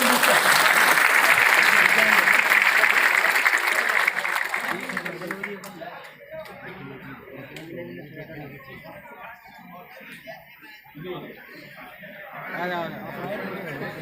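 Audience at a Constitution Day celebration in Vigyan Bhavan, Delhi, claps loudly for about five seconds, then the applause fades into scattered chatter and talking voices in the hall.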